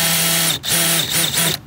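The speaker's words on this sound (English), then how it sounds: "I take my reamer or my countersink bit, and then I just go ahead and touch it" A power drill fitted with a reamer or countersink bit whirs against a screw hole in a DIY garage gym build: one steady run, then three short bursts with the pitch dipping and rising as the bit bites.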